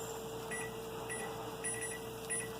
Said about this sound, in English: I'm going to set the timer now for 5 minutes.